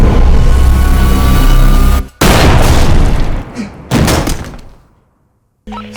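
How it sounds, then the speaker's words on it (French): A police shootout in a night-time attack at a home, heavy booming shots and blasts filling the first two seconds, then more bursts of loud, dense gunfire broken by short pauses before falling quiet. "échange de coups de feu"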